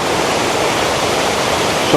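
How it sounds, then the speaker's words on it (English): A waterfall in a Scottish valley cascades into a pool, giving a loud, steady, close rumbling rush of white water that runs unbroken throughout. "you can hear this beautiful waterfall. Cascades down there and to a big spout"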